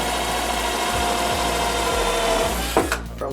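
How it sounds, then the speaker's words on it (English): A power drill runs steadily, pre-drilling holes into a wooden basement stair step, with a continuous whirring drone that shifts pitch near the end as the bit slows and stops. "So I'm going to pre-drill"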